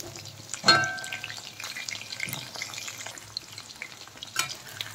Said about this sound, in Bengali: আর এইভাবে আমি সব পকোড়াগুলো ভেজে নেব